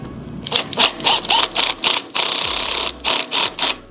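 A 10 mm torque screw is tightened into a crash cage puck on a Yamaha R7 motorcycle, giving a loud, close series of rapid ratcheting clicks in short regular bursts, with one longer continuous burst midway.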